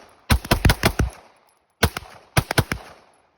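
Gun fired at an outdoor shooting range during a magazine dump: two quick strings of about five loud, sharp close shots each, separated by a second of silence, with ringing decay after each burst.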